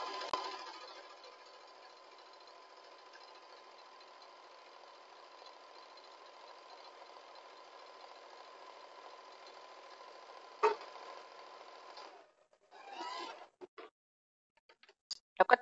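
A sewing machine sews along a marked line on a foam shoulder pad for a garment, holding a steady, even hum for about twelve seconds and then stopping, with a few short bursts of stitching near the end.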